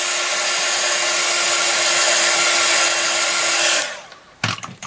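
Hair dryer blowing on a freshly painted fairy house, a loud steady close whoosh for about four seconds before it cuts off, followed by a few brief handling knocks.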